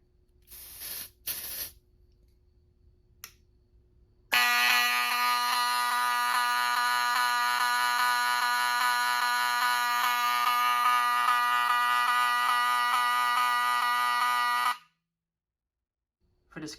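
BRK smoke detector on a Fire-Lite Miniscan 4824 panel sounding a loud, harsh continuous buzzing tone for about ten seconds after a few clicks, then cutting off abruptly.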